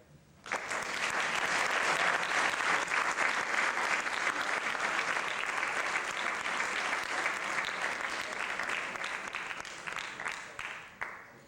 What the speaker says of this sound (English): So what I'd like right now is a hand of applause as they exit.